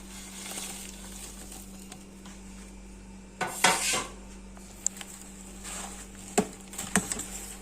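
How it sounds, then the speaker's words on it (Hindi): Bread mixture being whisked in a pan for bread barfi, soft scraping stirring against metal with a few sharper clinks of the whisk on the pan edge, no talk. "इसको हमने विस्कर की मदद से अच्छी तरह इसे मिक्स करना है"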